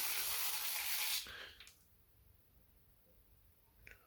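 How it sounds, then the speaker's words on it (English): A handheld sprayer bottle mists water onto compost in seed trays in one sustained hissing burst that cuts off after about a second, followed by near silence and a small click. "I'm just going to get my sprayer bottle over here and just spray that down with a bit of water"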